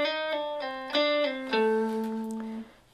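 An electric guitar plays a short blues lick of separate picked notes that step down and settle onto one last sustained note, which rings briefly before fading out. The tone is clean and close, with no voice over it.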